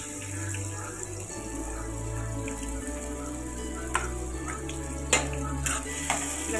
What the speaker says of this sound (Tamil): இதை நல்லா இப்போ வதக்கி எடுத்துக்கோங்க